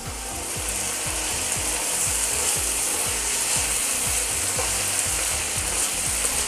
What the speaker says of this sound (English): And then the carrots. We'll just saute this first